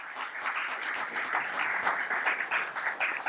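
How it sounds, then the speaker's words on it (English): Applause from the audience at a business forum, a steady, moderately loud patter of many hands clapping at once, continuous throughout with no voices over it. "Let's give them a round of applause."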